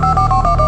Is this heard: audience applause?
no